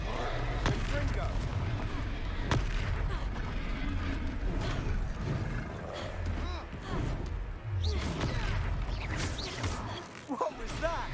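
Fiery Confringo blasting curses strike during a battle in Hogwarts Legacy, several sharp crashing bursts scattered across busy, loud combat noise, with characters talking throughout.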